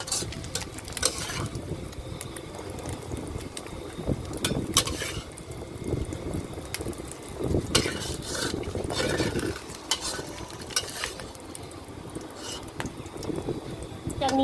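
A utensil scrapes and scoops stir-fried glass noodles with cha-om from a pan, giving repeated irregular scraping and clinking strokes close up at moderate level, with faint sizzling between them.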